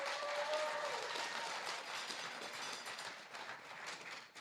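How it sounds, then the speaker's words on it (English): Sustained audience applause fills a medical school induction and awards ceremony hall, a dense wash of many hands clapping that swells at first and then gradually thins. "Can you please put your hands together for my DMs?"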